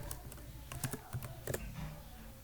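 Java code is typed on a computer keyboard as a steady run of quiet, irregular keystroke clicks with no talking.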